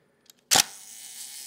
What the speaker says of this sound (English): Oh, that was on too long of a shutter.